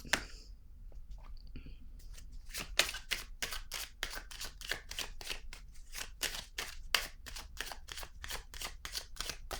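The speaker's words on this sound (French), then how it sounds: "Je vais piger une autre carte ici." Tarot cards shuffled and drawn from a deck in a quiet room: after a couple of soft rustles, a long run of crisp, evenly spaced card flicks and slaps follows, close and fairly quiet.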